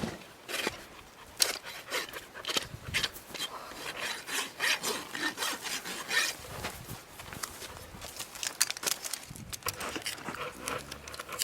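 A rasp files down the inside of a horse's hoof during a trim, making rapid, irregular strokes of harsh gritty scraping. The strokes run continuously and fairly close with short pauses between, and no voices.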